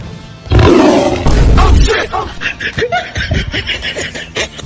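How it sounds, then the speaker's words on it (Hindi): A lion roar sound effect plays loudly and close, a long rough growling roar followed by chuckling laughter and voices in a comedy skit. "कभी शेर का आवाज आ रहा है"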